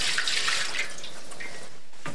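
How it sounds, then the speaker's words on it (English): Liquid, a cornstarch slurry, is poured back into a pan of turkey gravy in a home kitchen, giving a bright, close splashing trickle that thins out and ends with a final small splash, no talking. "Now I'll add the liquid right back."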